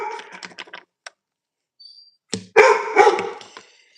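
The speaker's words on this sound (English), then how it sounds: "I thought my dogs were sleeping. They are not." Dogs indoors, including a big puppy, bark and scuffle while playing: a few quick bursts, a pause, then louder close barking and rustling. No one talks.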